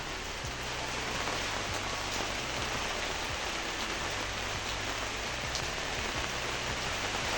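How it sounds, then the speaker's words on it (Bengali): Steady rain falls at night, pattering on paper overhead with a constant broadband hiss throughout, close and even, with no voices. "দেখুন বৃষ্টি এসেছে"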